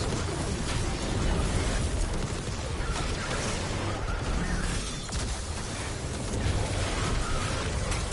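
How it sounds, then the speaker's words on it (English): Airstrike explosions in the video game Destiny 2, a dense, continuous barrage of booms, bursts and crashing debris packed closely together at steady high loudness, with no talk over it. "There's so many explosions."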